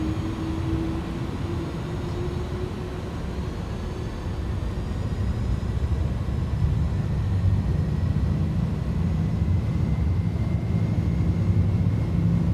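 Boeing 737NG jet engines spooling at takeoff thrust in Microsoft Flight Simulator, a steady loud roar with a rising whine that swells slightly partway through and holds constant, no voices.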